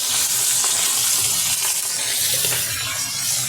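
Fish frying in a pan gives off a steady, close hiss of sizzling oil, fairly loud and even throughout with a few faint clinks.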